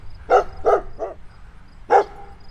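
A dog at a Detroit home lets out four sharp, close barks, three quick ones in a row, then a pause before a final loud one, over a quiet background.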